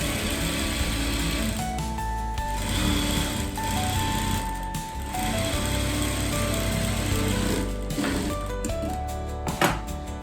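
Sewing machine stitching a plain blouse seam a second time, running continuously and fairly loud close by, with a steady mechanical hum and no speech.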